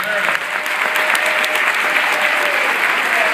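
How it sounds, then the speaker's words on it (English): Loud, continuous applause from a large audience at a public event, steady dense clapping with a faint hum running beneath it. "I think they deserve a round of applause."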